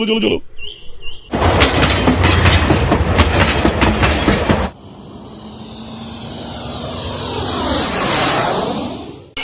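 A cartoon train sound effect: a loud rattling clickety-clack of wheels for a few seconds, then a swelling roaring whoosh that rises and fades, with no talk.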